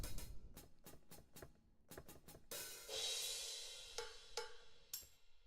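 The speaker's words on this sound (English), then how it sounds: "Alright, so we can do hi-hats." Hi-hat samples auditioned in music production software, a run of short crisp ticks in uneven clusters, followed by a brighter sustained shimmering hit and a few more sharp taps, fairly quiet and alone.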